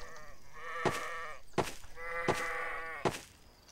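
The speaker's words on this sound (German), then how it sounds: "gleich kommt eh wieder ein Schaf von hinten und haut mich um" Sheep bleat repeatedly in the video game Survivalz, several wavering calls in a row, fairly close and clear over a quiet background.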